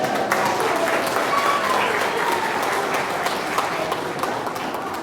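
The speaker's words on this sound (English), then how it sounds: "Let's give them a round of applause." An audience at a Halloween organ concert gives a round of applause, a full, continuous wash of many hands clapping at an even level throughout, with a few voices mixed in.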